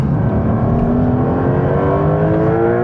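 A new Porsche 911 Turbo S accelerating hard on a race track, its engine note climbing steadily through a loud, sustained rev with a smooth, rising drone and no voices.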